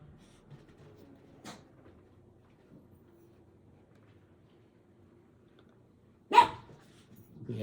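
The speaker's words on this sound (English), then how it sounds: "that's why my dog was barking" Dog barking somewhere in a quiet room, with a faint early bark and one sharp, louder bark later, otherwise near silence.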